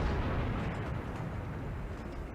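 A tank gun round striking an enemy tank in a video game, heard as a steady, heavy low rumble of blast and debris that holds for a couple of seconds without a distinct attack.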